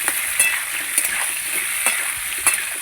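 Potatoes and onions fry together in a pan with a steady, fairly loud sizzle. A few sharper crackles and stirring knocks come through, and no one speaks.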